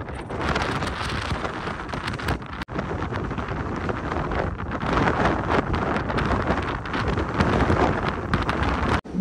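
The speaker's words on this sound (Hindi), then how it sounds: "बहुत ज्यादा तेज हवा है" Strong wind batters the microphone at a UK coastal viewpoint, producing a loud, continuous roaring buffet with surging gusts and brief dropouts, with no talking heard.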